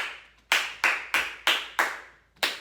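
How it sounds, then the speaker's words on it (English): Hands clap a steady rhythm of seven sharp, close claps, each ringing briefly in the room before the next. "Why don't you clap it with me?"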